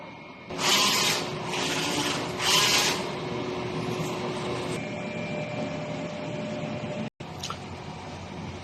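A DTF printer running a head clean and nozzle test, with three loud bursts of whirring and spraying mechanism followed by a steady motor hum and a brief click, close by.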